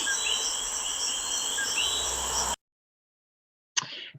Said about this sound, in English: I can hear 3, maybe there's a frog in there.